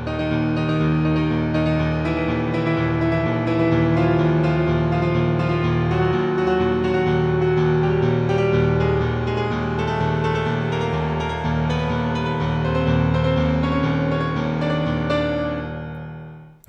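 Piano plays the main riff of a song, a steady stream of rolling repeated arpeggiated chords that rings continuously for about sixteen seconds, close and alone before fading at the end.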